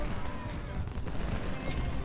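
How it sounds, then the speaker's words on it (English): Cannon fire from artillery on a ridge line in the Civil War strategy game Ultimate General: Civil War, a dense, continuous rumble of booms blending into a loud battle din. "we can see cannons firing from the top of this ridge line here"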